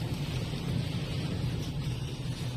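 Heavy rain and gusty wind sound from inside a taxi in Yekaterinburg, a dense, steady low rumbling wash with no voices.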